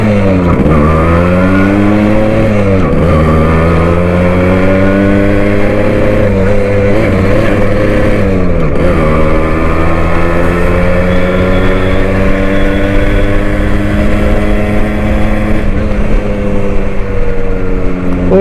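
A Suzuki Shogun two-stroke motorcycle engine running loud and close, a continuous buzzing drone whose pitch rises and falls through repeated revs and gear changes while riding.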